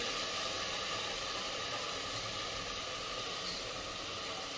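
Two bowls of rice sautéing in a pan, a soft, steady sizzle and hiss running evenly at low volume with no voices.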